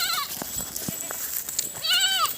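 Goats bleat a couple of times nearby, with quiet background noise and a faint voice between calls.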